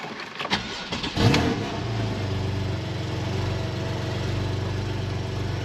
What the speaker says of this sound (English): let me start the car up so you can hear it exactly.